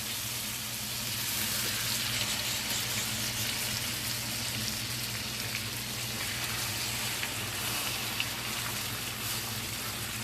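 Jerk salmon pieces frying skin-side down in a pan, a steady dense sizzle and crackle like light rain, continuous and fairly close throughout.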